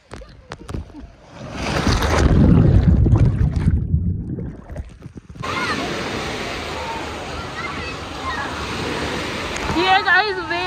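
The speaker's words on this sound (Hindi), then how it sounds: "ये गाइस वेव वाला एरिया है, यहाँ पर ये कुछ टाइम के लिए वेव्स छोड़ते हैं" Waves surge in the wave pool at Mojoland water park in Murthal, Sonipat, Haryana: a loud rushing churn of water with splashing, then a steady wash of surf under distant crowd voices.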